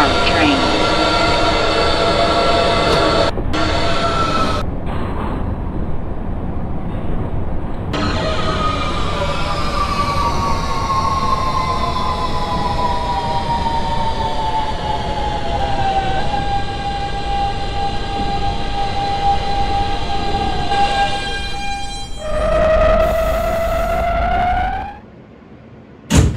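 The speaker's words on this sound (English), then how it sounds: "This is a Manhattan-bound N train." An R160B Siemens subway train runs in the OpenBVE train simulator on the N line toward Atlantic Avenue, its motors whining up and down in pitch over steady rail rumble, with announcements spoken over it and a final stop.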